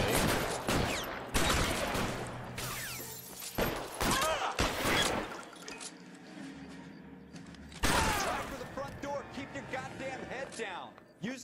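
Bursts of gunfire from the 1940s-set video game L.A. Noire crack in quick clusters, loud and close, with a louder burst later on, while someone talks over the shooting.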